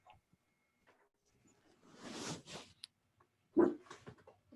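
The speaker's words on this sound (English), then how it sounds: "Bertie, bark at it" A dog gives a couple of short, faint barks or whimpers from a little distance, separated by near-silence in a quiet indoor space.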